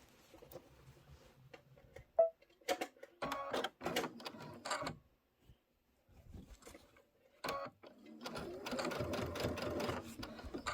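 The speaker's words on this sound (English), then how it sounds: "I'm going to back stitch that." A sewing machine stitches a pillow panel in short bursts with pauses between, its needle chatter close and clear, stopping and restarting several times as fabric is repositioned.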